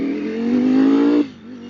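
A 2021 Ducati Streetfighter V4 motorcycle engine climbs steadily in pitch under hard acceleration, then drops abruptly at a gear change and begins pulling again, loud and close.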